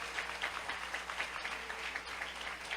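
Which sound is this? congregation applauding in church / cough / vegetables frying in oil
congregation applauding in church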